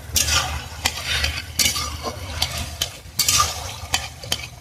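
Fish being stirred in a frying pan, a continuous close sizzle punctuated by regular scraping and clanking strokes of a spatula against the metal, fairly loud with no voices.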